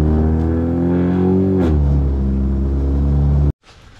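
Volkswagen MK6 GLI engine and exhaust with a loud, close droning rumble whose pitch eases down slightly midway, then cuts off abruptly near the end, leaving only faint background.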